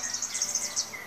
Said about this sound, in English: that is a superb fairy wren